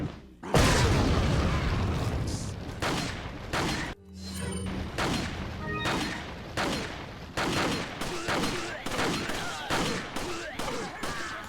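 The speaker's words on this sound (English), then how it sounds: "and then you go, and throw the nade" Explosions and rapid gunfire in Resident Evil 4, with a loud burst at the start, a brief gap, then a series of sharp booming shots and blasts in an irregular rhythm.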